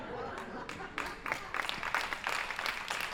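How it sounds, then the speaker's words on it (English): An audience at a senior center cowboy poetry reading breaks into applause, a moderate ripple of clapping that builds and thickens over a few seconds. "Did you know that applause makes you look better?"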